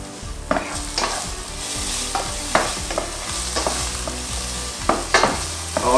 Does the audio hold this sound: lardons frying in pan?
yes